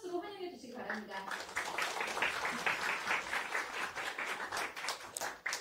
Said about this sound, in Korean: 여러분들 모두 다 큰 박수로 환영해 주시기 바랍니다